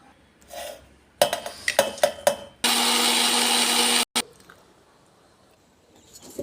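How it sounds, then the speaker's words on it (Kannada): Spice masala whirs in a kitchen mixer grinder in one loud, steady burst lasting about a second and a half, after rattling clinks and knocks from handling the jar and a short second whir. "ಎಲ್ಲ ಆರಿದ್ಮೇಲೆ ರುಬ್ಕೊಳ್ಳೋಣ"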